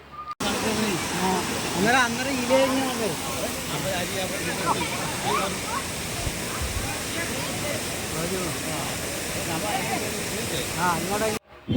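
Broadband rushing water of a waterfall in Kannur, steady and close throughout, with people talking and children's voices over the roar.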